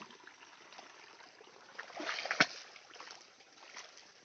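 Soft, steady trickle of irrigation water flowing among banana plants, with a brief louder splash in the middle, fairly quiet and close by.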